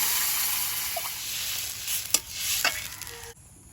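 Vegetables fry in a pan, a close, steady sizzle broken by a few scraping stirs, ending abruptly.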